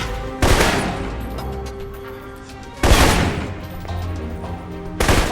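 Assault rifle fire in the Alpha Protocol shooter: three loud, sharp bursts spaced a couple of seconds apart, each with a ringing tail over a steady background hum, no voices.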